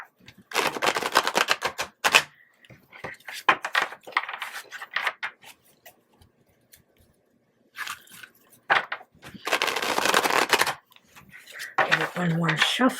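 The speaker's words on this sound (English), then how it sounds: "One more shuffle, and we're on our way." Tarot cards are shuffled by hand in quick crisp bursts of riffling and slapping, close and clear, with pauses of near silence between rounds.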